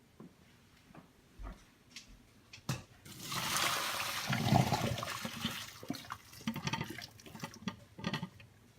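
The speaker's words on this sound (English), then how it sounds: "Pour your green beans into a drainer in the sink." Boiled green beans and hot water pour into a drainer in a kitchen sink, a rushing splash building over several seconds, then trickling and dripping as it drains away, close by.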